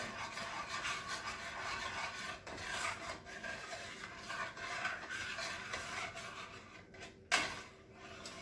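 A spoon stirs cream of chicken soup in a pot for chicken and rice soup, making steady rubbing and scraping strokes that continue throughout at moderate, close level, with a sharper knock near the end and no talking.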